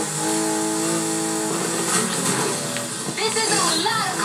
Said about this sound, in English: I like the sound of this GTR.